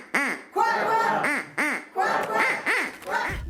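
A magician's duck gag produces a series of loud, nasal quacks, about seven in an uneven rhythm, close and prominent, with honking, voice-like squawks between them and no separate talk.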